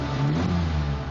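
The mid-mounted engine of a 1979 Ferrari 308 GT4 holds a steady, throaty rev, a loud, sustained hum for about a second with no voices over it.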